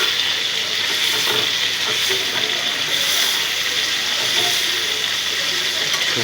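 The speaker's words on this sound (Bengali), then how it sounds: "মিডিয়াম জালে ভাজবেন, ভিতরে কাঁচা থাকবে না, কিন্তু মশলাগুলো ইনশাল্লাহ ঢুকবে" Chicken pieces frying in oil over medium heat for a spicy chili fry, giving a loud, steady sizzle with light scraping and clicking from stirring throughout.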